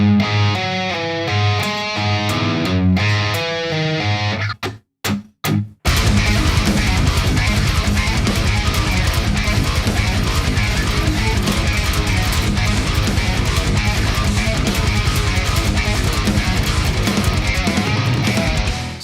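A distorted 7-string guitar plays a modern metal riff slowly, opening with a few ringing notes, then a short gap before a dense, loud stretch of chugging palm-muted low-tuned gallops.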